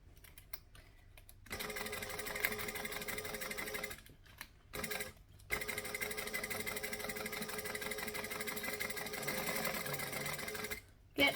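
Sewing machine stitching a travel bag, running in long steady bursts of rapid mechanical whirring with short pauses between seams, close and fairly loud.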